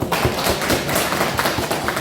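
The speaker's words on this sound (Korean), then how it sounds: "오늘 열심히 강의를 해주신 김성종 박사님께 다시 한번 큰 박수 한번 부탁드립니다" An audience at a peach-growing training session claps for the lecturer, a brief burst of many hands clapping at once, close and even throughout.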